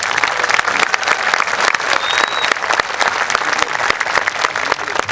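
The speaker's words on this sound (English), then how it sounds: "We can get a big round of applause for Mrs. Hunkins and Mrs. Foster." A graduation ceremony audience claps in loud, dense, sustained applause that continues steadily throughout with no break.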